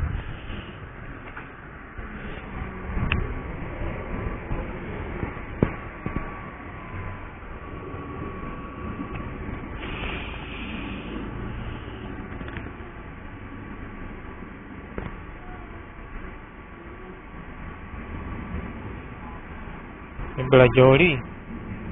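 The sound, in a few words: train at a station in Crawley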